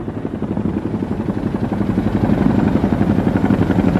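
Helicopter flying near Mount Rainier in a blizzard rescue setting, its rotor chopping in a steady, loud pulsing beat that swells slightly closer over a few seconds with no voices.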